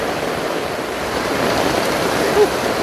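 Floodwater rushes across a road after a typhoon, a steady, loud broadband wash of flowing water with no pauses and no voices.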